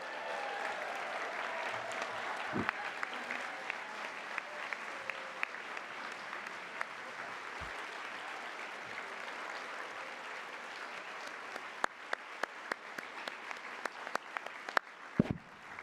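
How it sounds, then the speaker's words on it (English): Sustained applause from an audience at a marathon charity pasta party, honoring the runners who stood up, with steady dense clapping throughout and a few louder sharp claps near the end. "so we can all give you guys a nice round of applause"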